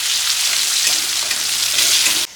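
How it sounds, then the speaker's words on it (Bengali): Food frying in hot oil in a pan on a home kitchen stove, a dense, steady sizzle heard close up that cuts off abruptly near the end. "এদিকে আমি ভাজাটা করে নিই।"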